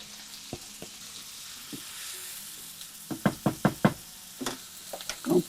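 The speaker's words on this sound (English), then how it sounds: "We're going to saute it in 2 or 3 tablespoons of butter." A small chopped onion sautés in butter for tuna casserole with a faint sizzle, punctuated by a rapid run of sharp utensil knocks against the pan toward the end.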